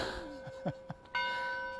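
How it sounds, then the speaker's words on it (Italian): Church bell tolling from a rooftop in an Italian town, a steady sustained ring with clear harmonic tones that swells in at the end, following a few faint clanks and soft ambient noise. "vedi c'è pure la campana"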